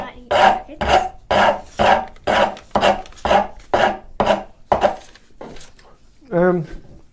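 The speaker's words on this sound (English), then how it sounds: "I'm going to grab a rasp, a fairly heavy cut on here. I'm going to take off this corner." A heavy-cut rasp files off the corner of a workpiece in about ten steady, evenly spaced strokes, each a loud scraping pass. The strokes stop near the end and a short spoken phrase follows.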